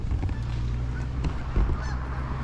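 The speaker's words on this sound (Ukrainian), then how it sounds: "Знову гуси. І вони всі летять приблизно на північ." Geese flying overhead honk repeatedly from a distance over a constant low rumble, their calls scattered and faint.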